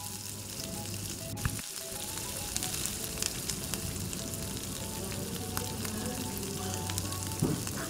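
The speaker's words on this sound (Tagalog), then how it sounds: "isasahog na natin yung ating ground pork. Halu-haluin lang din po hanggang sa" Ground pork sautés with garlic in a pan, a steady soft sizzle with occasional crackles and stirring scrapes throughout.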